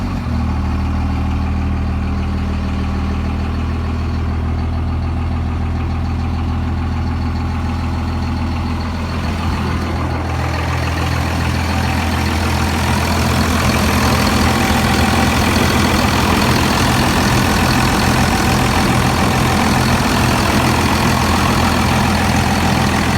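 A 1998 Dodge Ram 2500 with a Cummins turbo diesel and an 8-inch dump exhaust idles close by, a loud deep steady rumble that grows rougher and heavier partway through as the engine note changes.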